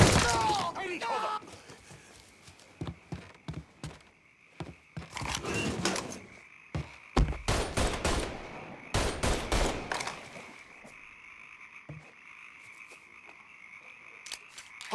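Bursts of gunfire crack through a Mafia III shootout, scattered loud volleys and single shots separated by short pauses, with a voice shouting over the fighting.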